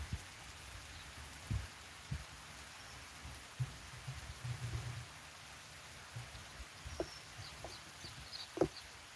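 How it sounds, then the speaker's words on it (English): Steady rain falls around a back porch, a constant hiss with scattered louder drips and taps close by, and occasional faint bird chirps in the distance. "now we have some nice rain. It's coming down heavier."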